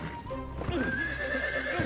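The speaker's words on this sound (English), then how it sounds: "brought the horse that was tethered in the stable! Red Hare!" Red Hare, a horse in the video game Wo Long, whinnies loudly and alone for a couple of seconds, a drawn-out neigh set against a busy game soundscape.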